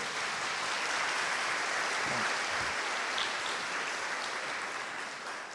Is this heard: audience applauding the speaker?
yes